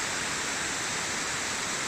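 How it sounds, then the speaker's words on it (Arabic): A modest spring-fed Swiss waterfall at Näfels pours with a steady, broad roaring rush, close and constant with no voices. "هذا واحد من الشلالات السويسرية"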